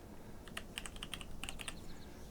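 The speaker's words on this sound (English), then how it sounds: "Sorry, loud keyboard as well." A loud computer keyboard clatters with quick, irregular keystrokes in a short burst, close but fairly quiet against a low background hum.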